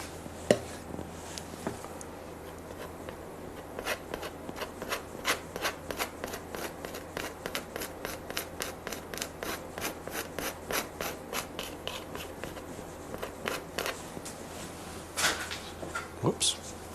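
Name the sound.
scraping paint while painting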